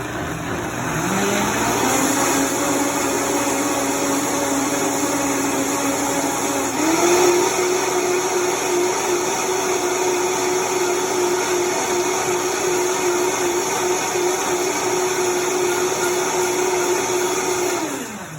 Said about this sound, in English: If you have a pretty good blender that'll really puree things up